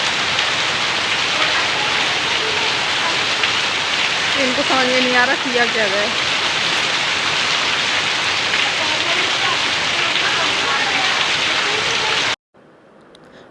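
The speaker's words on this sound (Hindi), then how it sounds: "बहुत ज़्यादा बारिश हो रही है" Heavy rain pours down in a loud, unbroken hiss across a festival outing, a short voiced sound rising briefly through the downpour before it cuts off abruptly near the end.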